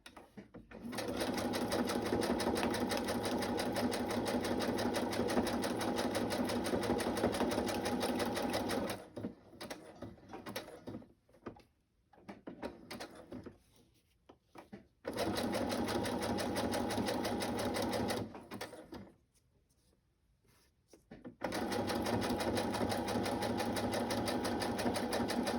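A sewing machine stitches fabric scraps into shabby chic pockets, running in long steady bursts of rapid close whirring with brief pauses and quieter slow stretches between them.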